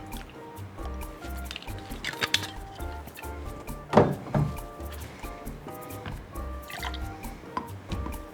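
Orange liqueur is poured for a tiki cocktail, heard as faint trickling and dripping with small clinks of glass and bar tools. The sounds are quiet and close.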